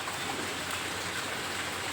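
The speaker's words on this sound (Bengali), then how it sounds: "আবার বৃষ্টি নামলো" Steady rain falls, a constant soft hiss of drops with no pauses.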